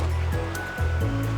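A forest stream runs over rocks at Shanlinxi in Nantou, Taiwan, giving a brief, steady rush of flowing water with low rumbling surges, close and continuous with no voices.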